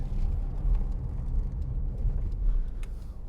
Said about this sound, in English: Lovely gear change.